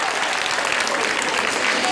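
Dense, steady applause from an audience at a Tamil debate show, loud and close, continuous clapping filling the whole stretch without pauses.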